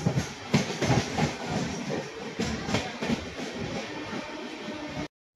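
The 12125 Mumbai–Pune Pragati Express pulls out of Dadar station in monsoon, heard from on board as a loud rumbling rolling roar with clattering wheel knocks, ending in a brief cut to silence.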